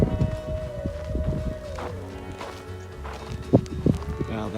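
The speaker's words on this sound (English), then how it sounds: "What do you think of all the horses?" Horses walk on a dusty trail in Tombstone, Arizona, near the O.K. Corral, giving scattered hoof clip-clops that turn sharper toward the end, with low rumbling around them.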